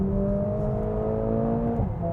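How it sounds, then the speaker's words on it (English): Mercedes-AMG A45S single-turbo four-cylinder engine hums at a steady, sustained drone from inside the car, with pitch holding level then dipping slightly as revs shift near the end. "But that engine, oh, it's good. Listen to that. It's a 4-cylinder"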